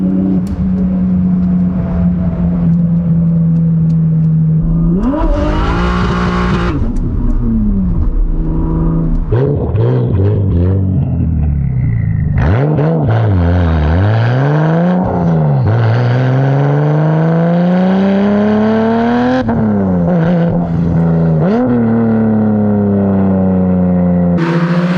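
A turbocharged 1988 BMW E30 M3 engine revs repeatedly, pitch climbing and falling through several loud sweeps with a steady idle between, close and continuous.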